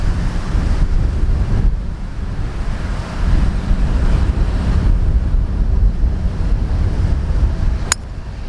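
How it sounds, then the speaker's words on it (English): Strong, gusty wind buffets the microphone on a golf course, a steady loud low roar with swelling gusts that runs the whole time, plus a brief sharp click near the end. "that's blowing at least 15, gusting up to 20 here"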